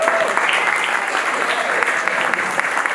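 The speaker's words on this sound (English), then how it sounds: "Thank you for the round of applause." Applause fills a hall at a women's achievement awards gala in New York, a brief, dense round of clapping from the audience at steady loudness.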